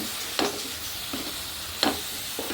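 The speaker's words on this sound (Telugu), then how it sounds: "పుదీనా పచ్చి స్మెల్ పోయేలాగా వేయించుకుందామండి." Mint leaves sauté in a pan under a soft, constant sizzle, with a few distinct spatula scrapes and taps every second or so, close and moderately quiet, without talk.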